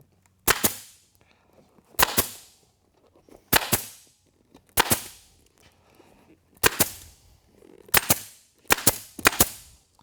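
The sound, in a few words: staple gun stapling an ATV seat cover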